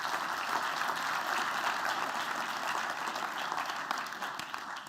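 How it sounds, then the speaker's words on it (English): An audience gives a quick, sustained round of applause for an event team and sponsors at an investor evening, dense even clapping filling the room at steady volume before easing slightly at the end. "So if I could ask for a quick round of applause for the Syndicate Room team and all of our sponsors."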